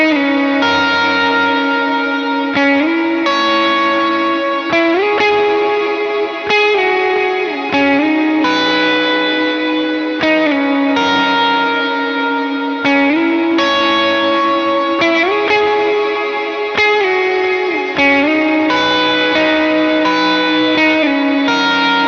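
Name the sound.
electric guitar played with effects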